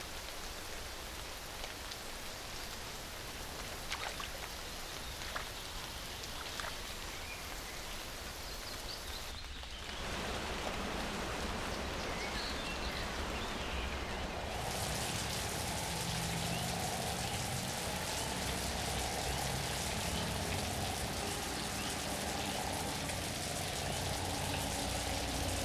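Steady rain pours down in the wild, a dense continuous hiss of drops on the ground and foliage that grows heavier partway through, with no voices.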